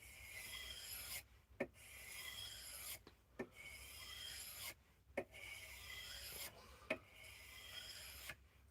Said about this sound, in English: get it to the very edge on the 800 grit